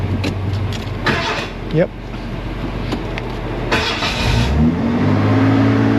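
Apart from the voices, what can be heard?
Ford F150 truck engine starting in neutral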